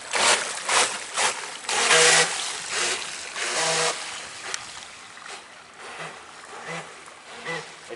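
Electric motor on a v-hull boat running on a river, a steady buzzing hum that rises and falls, with some splashy water noise. Brief bits of a voice sound over it.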